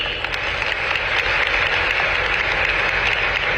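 Audience at a Tamil ceremony or function breaking into sustained applause, dense and steady clapping filling the space with no talk over it.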